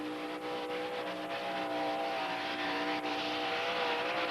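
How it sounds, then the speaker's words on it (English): A 600-plus cubic inch Chevrolet Mountain Motor drag race car at Bristol Motor Speedway screams at very high RPM, a loud, sustained, steady engine howl with strong harmonics filling the whole stretch, no talk over it. "Unbelievably high RPM for a 600-plus cubic inch Mountain Motor Chevy engine."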